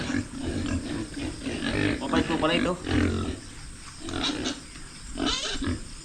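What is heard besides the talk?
pig grunting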